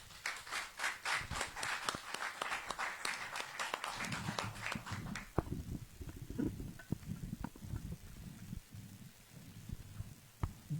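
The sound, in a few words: audience applause welcoming a speaker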